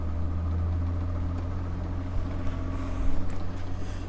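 A 6-pole window motor runs at full power, giving a steady low hum and drone close by that holds constant, with a slight rise and flutter near the end.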